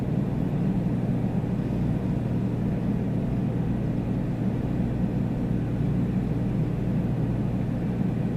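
A light general aviation aircraft droning steadily in flight over the Australian outback near a remote township, its engine a constant low rumble heard from the cabin with no pauses.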